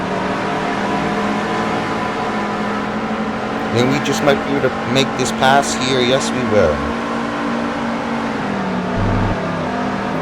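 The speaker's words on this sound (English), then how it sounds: "this Ford engine is really powerful" A Ford NASCAR stock car engine in a racing video game drones steadily throughout, holding a constant pitch and then briefly shifting, while someone commentates over it with excited speech.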